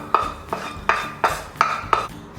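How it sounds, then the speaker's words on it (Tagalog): Sautéed onion being tipped into a hash brown mixture in a bowl, heard as six sharp utensil knocks against the dish at an even, roughly half-second rhythm, close and fairly loud. "Now, we're gonna add our sauté onion."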